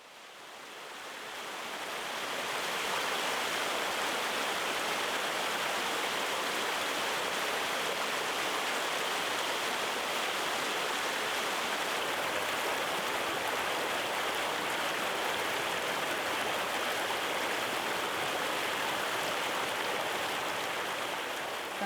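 Steady flowing water from a small stream or trickling channel, a continuous broadband rush that swells in over the first few seconds and then holds even and fairly close, with no voices.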